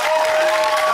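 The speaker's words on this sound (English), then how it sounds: "just wants an applause" A Big Brother studio audience claps and cheers in a dense, continuous burst of applause that fills the whole moment.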